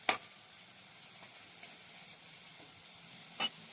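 Potatoes frying in a pan, giving a faint, steady sizzle with a couple of brief clinks or stirring scrapes near the start and again toward the end.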